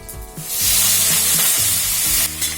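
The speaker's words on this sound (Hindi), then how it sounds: "पहले मैं ये शिमला मिर्च भून लेती हूँ" Red and green capsicum frying in hot oil with cumin and asafoetida, a loud steady sizzle with repeated scraping and stirring of a spoon against the pan, close up and without speech.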